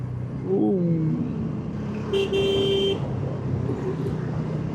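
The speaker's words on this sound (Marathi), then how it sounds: "टर्निंगला हॉर्न वाजवणं इम्पॉर्टंट आहे." A vehicle horn sounds twice, a short toot then a longer blare, on a turn on the ghat road near Lonavala, over steady engine and road noise from inside a moving car.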